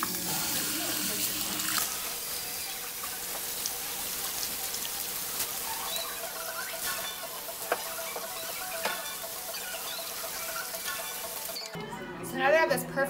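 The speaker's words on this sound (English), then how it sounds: "So I'm gonna rinse out my lightener." Water running steadily from a tap while lightener is rinsed out of hair in a salon, a continuous close hiss that changes as the stream shifts near the end, with some talk over it.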